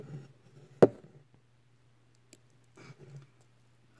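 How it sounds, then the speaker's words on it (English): A tarantula's fangs pierce a roach's hard shell, giving one sharp close crack followed by a few faint crunchy clicks in near silence. "You can actually hear it, the fangs piercing. Piercing through the roach's"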